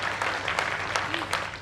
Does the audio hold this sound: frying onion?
no